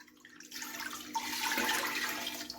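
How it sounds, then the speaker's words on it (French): Cold water, about a litre, pours steadily into a pressure cooker pot for a homemade honey syrup. A close, continuous splashing rush runs for a couple of seconds with no talk. "dans la cocotte minute, on va mettre 1 litre d'eau froide"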